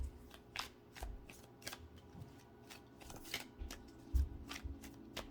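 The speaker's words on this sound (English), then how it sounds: "So let's pull a few more cards for you." Tarot cards being shuffled close to the microphone in a series of soft riffling bursts and taps, quiet with no talking.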